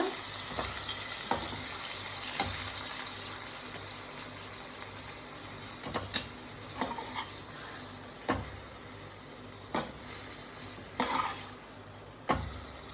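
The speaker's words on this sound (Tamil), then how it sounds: "அந்த நெய்யிலே வந்து இந்த சிக்கன் வேகணும்" Chicken pieces cook in ghee in a pan on low heat, a quiet steady sizzle broken by repeated louder stirring scrapes and clinks every second or two.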